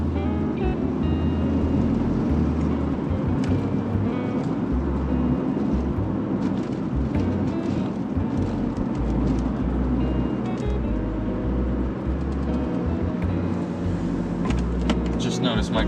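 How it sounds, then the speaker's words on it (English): A Volvo 240 wagon cruises on an early morning commute, its engine and road noise forming a steady low rumble inside the cabin with occasional light rattles. "this 240 is still such a smooth and straight driving car"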